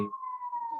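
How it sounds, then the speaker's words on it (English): A steady emergency siren tone holds through the background of an outdoor spot near the Pacific Ocean, faint and continuous for under a second, with a brief trace of voice at the start. "I apologize for the siren in the background"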